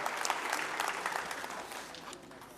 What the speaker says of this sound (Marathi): जोरदार टाळ्या प्रवीणदादा गायकवाड